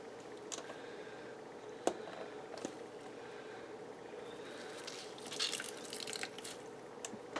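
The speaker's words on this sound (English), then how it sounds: "push some of the water out or soak it up" Sparse, faint drips of water as a sponge presses and soaks water from wet paper pulp during homemade papermaking, a few isolated taps over a steady low background hiss.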